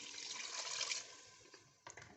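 Around 1.5 litres of water pours into a pot of meat for Lahori bong gosht, a steady soft rushing stream that tapers off into a few faint splashes, quiet and with no talking.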